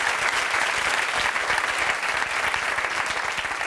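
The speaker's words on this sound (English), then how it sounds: "Yes, you can give her applause." Studio audience on a television talk show applauding a guest, loud, dense and sustained clapping from a large crowd that fills the room evenly throughout.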